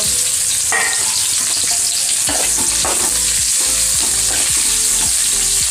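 Whole okra (bhindi) fries in hot oil for Gujarati akha bhinda nu shaak, giving a loud, continuous sizzle broken by repeated scraping and clinking stirs in the pan.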